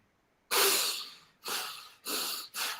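A man imitates angry breathing with four fast, harsh, uneven breaths close to the microphone, each a noisy rush of air with short gaps between, and no speech over them.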